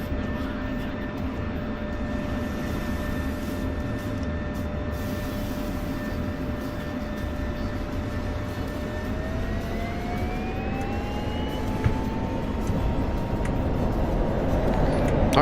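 F-16 Viper jet engine in a flight video game, a steady loud roar with a rising whine as it spools up for a short takeoff, continuous and close throughout.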